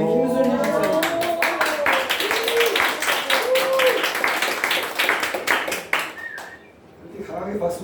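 A group of people in a Sunday church service clap hands in a steady run of claps, close by and fairly loud, while voices sing and talk over it before the clapping fades near the end.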